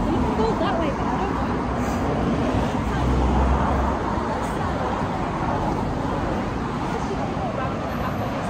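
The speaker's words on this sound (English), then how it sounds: "I don't know if you can hear half of this because of all the cars." Steady roar of traffic on a nearby road, cars passing continuously with a constant wash of engine and tyre noise that never drops away, with voices faintly mixed in.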